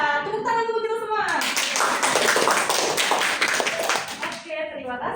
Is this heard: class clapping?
yes